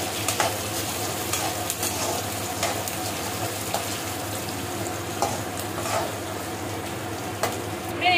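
Chopped green chillies and onion sizzling steadily in a hot pan while being stirred, with a close continuous frying hiss and occasional scrapes.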